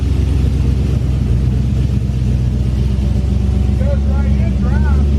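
Turbocharged Chevrolet Colorado truck with a bed-mounted turbo and tailgate-exit exhaust, its engine idling in a steady loud low rumble throughout, with voices talking over it.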